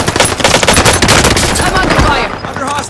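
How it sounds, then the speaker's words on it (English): Rapid automatic gunfire in a Call of Duty–style battle royale shooter, dense bursts of loud close shots rattling continuously, with a voice speaking over the fire before it thins out near the end. "Those bastards are shooting at me."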